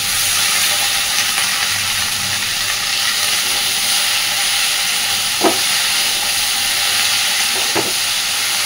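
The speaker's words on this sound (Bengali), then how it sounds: "আলু আর পটলটা সুন্দর ভাজা হয়ে গেছে। এবার দিয়ে দিচ্ছি ওলের ডাটাগুলো।" Potato, pointed gourd and taro stems fry in a pan with a loud, steady hissing sizzle and two soft knocks from stirring, with no one speaking.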